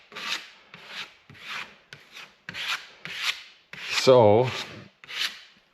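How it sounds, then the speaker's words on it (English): A scraper smooths filler flat across a plywood wall in about eight short rasping strokes with brief gaps between them, close and fairly quiet. One word is spoken near the end. "fill the gap and then scrape it nice and flat right away"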